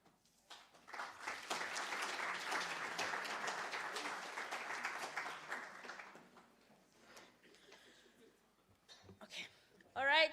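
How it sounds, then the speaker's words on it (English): Audience applause from a panel discussion on South Africa's energy crisis, a dense burst of clapping swelling for about six seconds before thinning out, with faint voices and noises afterward. "Can we give one round of applause, one more round of applause to our panelists and everyone that was involved?"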